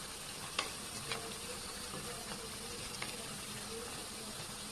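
Vegetables fry in a pan with a steady low sizzle while a utensil stirs them, adding a few light scrapes and taps; quiet and close.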